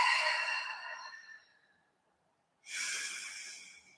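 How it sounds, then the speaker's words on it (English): Two long, airy breaths are taken during a Pilates stretch on a mat, close up. The first breath fades out, and after a short silence a second one follows. "And breathe."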